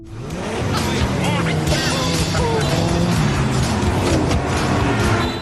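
Cars racing past with loud, sustained engine roar and revving, tires squealing at times, continuous and close throughout.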